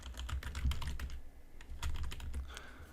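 Quick typing on a computer keyboard as a search is entered, a close run of light key clicks with a short pause in the middle.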